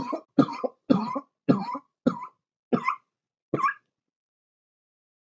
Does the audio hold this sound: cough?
yes